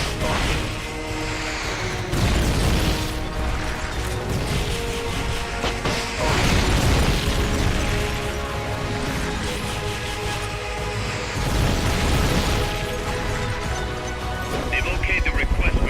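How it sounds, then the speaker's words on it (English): A video game rocket launcher fires repeatedly, and loud explosions and crashing impacts come in several heavy bursts over a steady bed of game music. "Firing rocket launcher."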